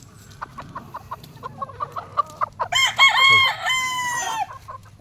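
A young Kelso-bloodline stag rooster clucks in a series of short clicks, then lets out a loud, close crow that tapers off into more clucking.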